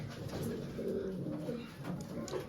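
Domestic pigeons, including Jacobin and other fancy breeds, coo softly in a pigeon loft, low throaty murmuring calls repeating close by over a quiet background.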